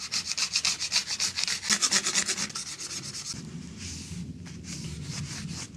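Rhythmic back-and-forth scraping of a small scraper over an old hand saw blade, lifting crud off the steel. The strokes are quick, steady and close, easing into a softer rub partway through.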